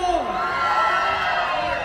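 Members of a concert audience for a cumbia trio in Xilitla, Mexico, shout loudly together on request, a dense, sustained crowd roar and cheer lasting nearly two seconds.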